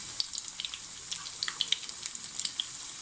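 Sooji pakoras deep frying in hot oil, a steady close crackling sizzle with dense bright pops and spatters throughout.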